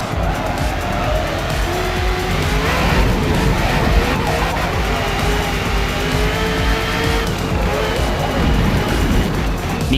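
A race car's engine roars steadily in a racing video game while tires squeal and skid through corners, the loud, continuous engine drone rising and falling with short screeching slides layered on top.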